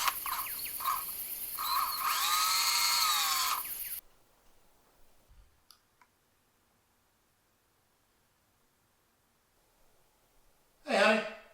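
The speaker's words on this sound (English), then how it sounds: "let's drill this thing out" A power drill whines loudly for about four seconds, its pitch rising and falling as it bites into the material, then stops. A long quiet stretch follows, and a short harsh burst comes near the end.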